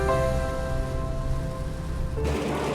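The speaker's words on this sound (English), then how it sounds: "now we actually hit the rain" Rain drumming on a vehicle while driving through a mountain pass beyond Vancouver, a steady close wash of droplets over low road and engine rumble, with a brief change near the end and no talking.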